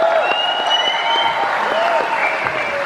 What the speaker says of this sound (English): round of applause for John Altman.